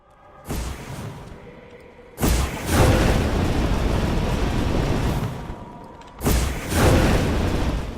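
Heavy booming blasts of gas containers exploding in Saints Row: The Third burst out in three separate bursts, each a loud rumbling explosion that lingers with roaring debris noise before fading.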